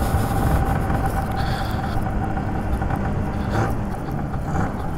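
Lambretta TargaTwin 275cc twin-engine scooter on a road, its exhaust a continuous rumbling drone with rushing wind noise, steady and fairly loud.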